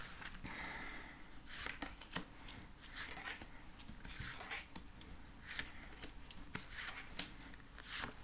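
Tarot cards shuffle and snap in a run of quick, crisp riffling bursts and flicks, close and fairly quiet, with no voice over them.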